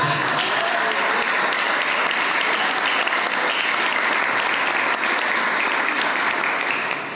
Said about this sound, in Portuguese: Sabe que você pode aplaudir o nome dele?